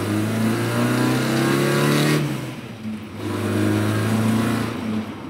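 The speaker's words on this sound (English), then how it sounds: "It's a very rowdy sounding car. It's very loud, very, very loud." Loud engine drone heard from inside a 1975 Toyota Corolla KE35, rising in pitch as it accelerates, easing off, then building again with a rough, rowdy tone.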